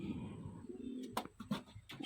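Pigeons offered for sale coo in low, throaty pulses that run steadily through the moment, with a few sharper rustles and knocks near the end and no talk.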